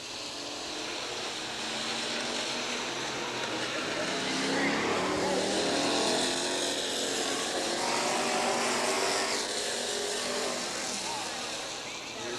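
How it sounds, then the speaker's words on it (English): Race cars roar around Jefferson Speedway in a 1989 race, a continuous loud engine drone that swells and fades as the pack passes, with a commentator's voice over the noise. "Gary Krieger's got his car really cranking"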